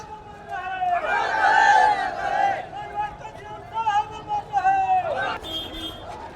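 A large crowd at Mayawati's rally in Lucknow shouts and chants slogans in rising, overlapping bursts, loud and near, with voices blending into a roaring babble.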